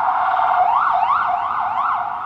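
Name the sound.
emergency vehicle sirens in New York street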